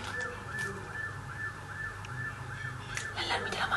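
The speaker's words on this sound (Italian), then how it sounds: "L'allarme della macchina, non è la mia." A car alarm sounds outdoors with a steady repeating electronic wail cycling at a regular rhythm, moderately distant, under faint background noise.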